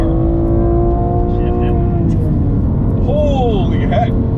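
BMW M2 Competition engine on track, a loud sustained rev that drops through a downshift, with people talking over it.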